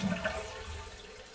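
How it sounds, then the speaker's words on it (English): A toilet flushes with a short, rushing wash of water, fairly close and steady, with no voices. "The dead silence of the Zoom meeting was interrupted by a toilet flushing."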